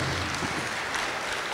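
A graduation ceremony audience claps for the board chairperson in a brief burst of moderately faint, continuous applause that fills the whole moment.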